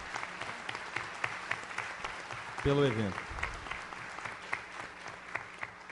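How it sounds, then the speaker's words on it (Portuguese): Audience at a closing ceremony applauds steadily through the whole stretch, a dense wash of clapping heard beneath a speaker who keeps talking over it. "gostaria de uma salva de palmas também"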